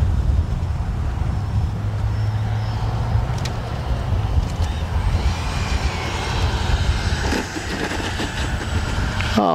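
An FMS Integral 80mm electric ducted-fan RC jet on a high-voltage LiHV battery pack flies overhead, giving a steady loud turbine-like whoosh with a faint high whine that holds level throughout, with no talking.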